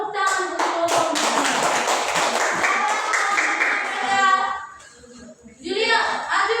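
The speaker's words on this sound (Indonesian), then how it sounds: "Tepuk tangan untuk kelompoknya" Students in a classroom clapping for a group during a maths lesson, a brisk burst of many hands lasting about four seconds that then dies away, followed by voices talking.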